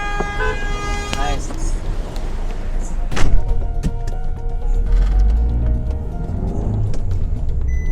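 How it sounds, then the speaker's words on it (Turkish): Car horns honking in Istanbul traffic, short toots amid engine rumble and street noise, with a voice talking inside a taxi. "Yani niye sürekli korna çalıyorsun, tahrik ediyorsun?"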